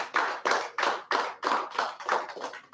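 Applause at a student appreciation ceremony comes as a steady run of about nine evenly spaced, close, loud claps, like a small group clapping together.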